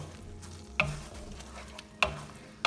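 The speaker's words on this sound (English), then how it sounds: "Gotta mix it around aggressively all around" Egg bhurji, Indian scrambled eggs with vegetables, stirred in a pan over low heat: a soft steady sizzle with three sharp spatula scrapes against the pan at uneven intervals.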